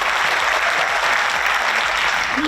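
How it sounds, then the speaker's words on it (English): Dense, steady applause from an audience celebrating students at an evening event, filling the whole stretch at even loudness. "So everybody give a big hand of applause for them."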